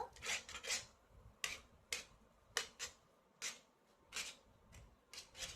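A spoon scrapes and stirs spices around a pan on an induction cooktop while making Maggi noodles, giving a series of short, dry scraping strokes at an uneven rhythm, fairly quiet and close, with no talking.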